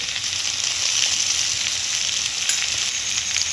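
Spices and ginger paste sautéing in hot oil for a vegetarian potol and pumpkin dish, with a continuous close, bright sizzle and no talk.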